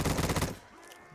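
A short burst of rapid gunfire from the Ice Defender gun in Black Ops 3 Zombies, loud for about half a second before cutting off to a quiet tail.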